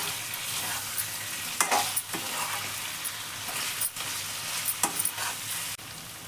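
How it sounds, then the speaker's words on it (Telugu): Andhra-style chicken fry curry sizzles loudly in a pan while being stirred, with a continuous hiss broken by repeated scraping strokes of a utensil and no talking. "ఈ విధంగా బాగా కలుపుకుంటూ ఫ్రై చేసుకోండి"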